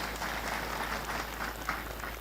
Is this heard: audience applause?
yes